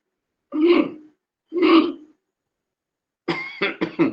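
Two separate coughs, then a rapid cluster of three or four short coughs a moment later, close and fairly loud with silence between, during a yoga breathing exercise.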